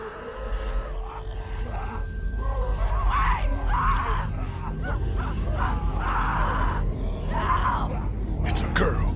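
A girl screams in The Walking Dead: Episode 3 – Long Road Ahead on PS3, with several loud, ragged shrieks in bursts over a low, rumbling game soundscape.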